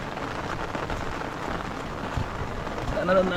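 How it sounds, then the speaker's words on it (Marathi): Rain falls steadily in a dense, hissing patter on a surface nearby, a continuous wash with a voice briefly audible near the end. "पाऊस कडक पडतोय"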